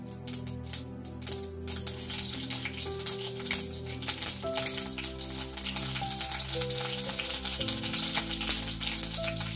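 Mustard seeds spluttering in hot oil, a dense crackle of sharp pops and sizzling close by, continuous and busy throughout over background music.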